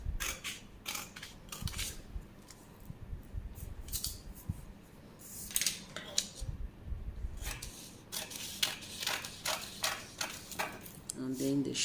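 Scissors cutting along the shoulder of a paper shirt pattern, repeated crisp snips and rustling of paper in short bursts, close and fairly quiet.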